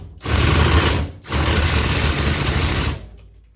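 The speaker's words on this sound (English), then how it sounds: "It is good to use an impact gun like this." Impact gun hammering a bolt during a base valve job on a Ducati DesertX motorcycle, in two loud rattling bursts up close, the first about a second long and the second nearly two seconds.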